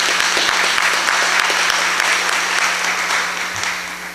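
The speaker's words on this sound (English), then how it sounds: "Can I just get a round of applause for her today" Dense, steady applause from an audience at the 2016 Exeter UFO Festival fills the room, heard up close and alone, then eases slightly toward the end.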